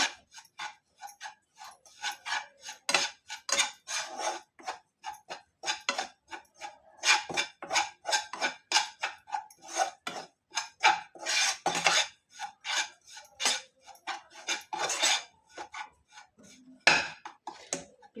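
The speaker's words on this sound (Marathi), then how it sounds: "तूप टाकून भाजायची खारीक पावडर अगदी थोडीशी भाजून घ्यायची आहे करपून न देता" Dried date powder being roasted in ghee in a pan, heard as continual scraping and rasping of a spoon against the pan in uneven strokes, close and fairly soft.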